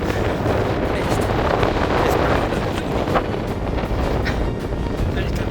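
Strong wind blasts across the microphone on a misty, fog-covered mountain ridge in the Brecon Beacons near Pen y Fan, a loud, continuous roaring rush with gusty swells, and a person speaking faintly under it.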